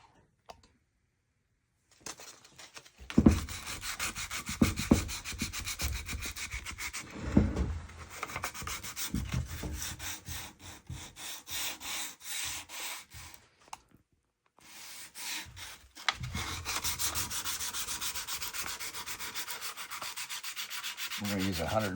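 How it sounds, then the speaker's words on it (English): Sandpaper rubs back and forth along a wooden Boys axe handle, stripping old shellac with 150-grit paper, in steady close scratchy strokes with a couple of brief pauses. "Maybe fill that in or sand that little divot down."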